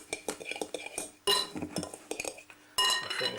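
A utensil clinks and scrapes against a bowl while desiccated coconut and eggs are mixed, a quick irregular run of close clatter in short bursts separated by brief pauses.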